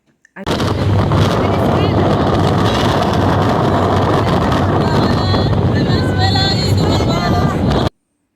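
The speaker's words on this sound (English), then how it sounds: "Now we're off to Nevis via ferry." A ferry crossing from St. Kitts to Nevis roars with heavy, continuous engine and wind rumble, loud and close throughout, with faint voices buried under the noise before it cuts off abruptly.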